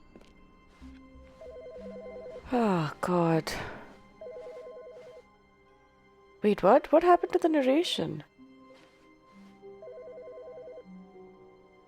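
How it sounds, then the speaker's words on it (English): A telephone rings in The Stanley Parable game, coming in repeated short bursts of a steady electronic ring between stretches of someone talking loudly over it. "A phone's ringing somewhere."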